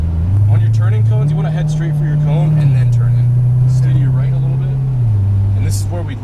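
Chevrolet Corvette Stingray on a track: a loud, steady engine drone rises in pitch as it accelerates, holds, then drops back, with someone talking over it throughout.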